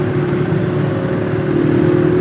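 A vehicle engine idling and revving steadily while warming up, a loud, close, continuous drone that rises slightly toward the end, with no talk over it.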